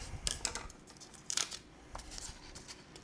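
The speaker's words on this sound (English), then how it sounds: "I've got a lot of extra picture here, so I'm going to cut that off and tape the other edge as well." Scissors trimming excess picture paper taped down for piping chocolate doilies: a few quiet, close snips and a longer crisp cut, with light paper rustle between and no talking.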